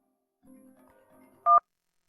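A telephone keypad sounds a brief, loud burst of two-tone dialing beeps right after a few soft, low murmurs, then silence.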